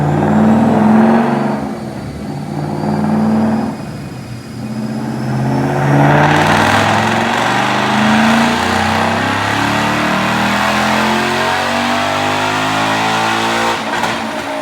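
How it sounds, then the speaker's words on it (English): Supercharged 2015 Mustang GT with a Roush Phase 2 supercharger, over 650 rear-wheel horsepower, revving hard through a dyno pull; loud sustained engine roar climbing in pitch with supercharger whine, alone without talk. "Check out this dyno pull."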